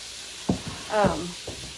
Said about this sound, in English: It's frying up so good.